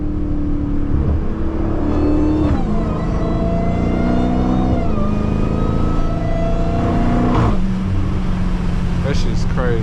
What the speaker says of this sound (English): Give y'all some downshifts, man.